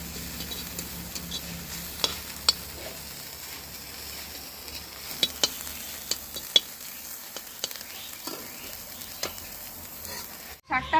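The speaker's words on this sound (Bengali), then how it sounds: "এবার ভালোভাবে আমি শাকটাকে ভেজে নেবো" Radish greens fry in a pan with a steady soft sizzle, while sharp clicks and scrapes from stirring mark the frying at uneven intervals. There is no speech.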